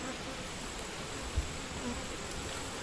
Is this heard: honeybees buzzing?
yes